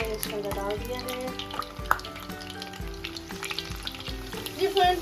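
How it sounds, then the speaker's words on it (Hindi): Koftas shallow frying in a small amount of warm oil, giving a steady close sizzle with light stirring clatter and occasional soft pops. "ऑयल हल्का सा गर्म हो गया और मैंने इसके अंदर डाल दिया है"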